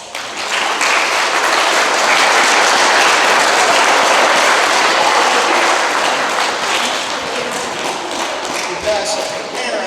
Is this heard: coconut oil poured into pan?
no